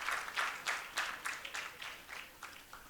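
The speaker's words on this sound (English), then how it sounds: "A big round of applause for Mr. Sanjeev Deshpande for standing like a pillar behind Gauri Tai and the Kalanjali Academy." Audience applause at a Kalanjali Nritya Academy Bharatanatyam arangetram dance recital, a short stretch of rhythmic, moderately distant clapping from a crowd that gradually thins out.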